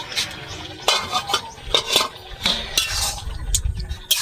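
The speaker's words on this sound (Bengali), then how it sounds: "আমি কড়ার ঢাকনাটা খুলে দেখবো এখন" A wok (karai) lid is lifted off a pot of cooking taro leaves, with a run of metallic clinks and knocks from lid and utensils over a faint simmering sizzle, close and uneven.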